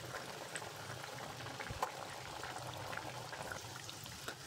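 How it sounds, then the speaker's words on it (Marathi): Sabudana vada deep frying in hot oil over a full flame, a dense, steady bubbling sizzle at moderate level with small pops scattered throughout. "सुरुवातीला फुल फ्लेमवरतीच तळून घ्यायचं आहे,"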